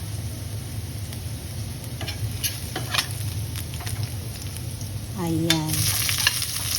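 Cabbage stir-fried with golden-browned garlic in oil in a pan, a steady close sizzle with scraping stirs and clinks of the utensil, growing louder near the end as the vegetables hit the hot pan; a brief word is spoken.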